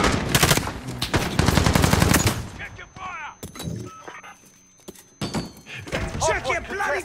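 Rapid machine-gun bursts and gunshots from Call of Duty: Modern Warfare, a dense loud barrage for the first two seconds followed by scattered shots, with shouted voices over the firefight.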